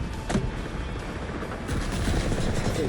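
An SR-3M fires in the shooter game Delta Force, with sharp rapid gunshots among a dense rumble of battle noise. The shots come in short bursts close by, and a louder stretch follows near the end.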